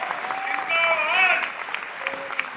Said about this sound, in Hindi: तालियां इतने से काम नहीं चलने वाला है।